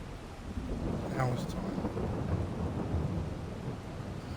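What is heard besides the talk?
thunder during a rain storm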